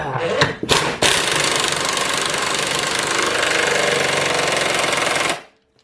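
A pneumatic impact gun drives a new bolt into a rear subframe insert on an MQB car, a loud, sustained rapid hammering that runs for about four seconds after a few short bursts, then cuts off.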